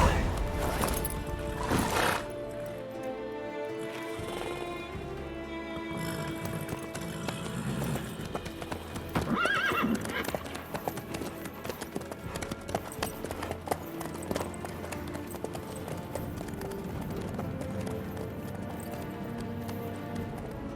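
A horse's hooves clop in a steady rhythm through Witcher 3, mixed with game ambience and an occasional whinny, running continuously at moderate volume.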